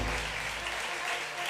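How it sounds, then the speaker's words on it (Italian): Audience applause at an Italian literary prize ceremony, a steady dense wash of clapping filling the short moment at moderate level. "facciamo un grande applauso al Civitas Vitae Nazareth"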